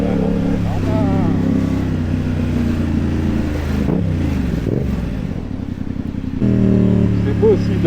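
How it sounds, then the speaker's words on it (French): A motorcycle on a motorway revs and accelerates to cool the engine, a loud, close droning with rising and falling engine pitch and wind rush, and a voice speaking over it. "on est obligé d'accélérer comme ça. Pour refroidir la moto."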